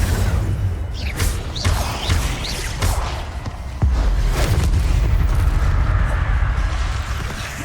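Incendio fire spell cast in the video game Hogwarts Legacy: a roaring, rumbling fiery blast with several sharp bursts and whooshes layered over a deep sustained boom, loud and close with no talk.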